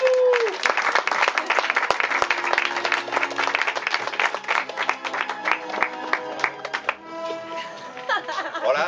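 An audience applauds a short-film actor at a screening presentation, steady dense clapping filling most of the clip before fading near the end, with some murmur underneath.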